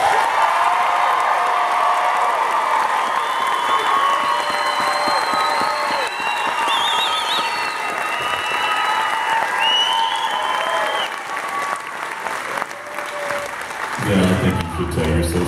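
Sustained applause from a large concert audience, loud and dense, with scattered cheers and whoops throughout, easing slightly before a louder swell near the end.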